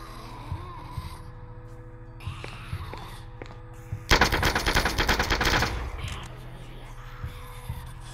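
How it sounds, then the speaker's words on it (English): Rapid automatic gunfire in a zombie VR shooter game, a loud sustained burst of dense repeated shots in the middle, set against a steady background hum with a few scattered clicks before and after. "We shooting, baby."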